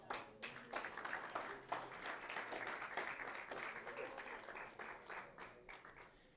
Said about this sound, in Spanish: Damos un fuerte aplauso a nuestro Dios.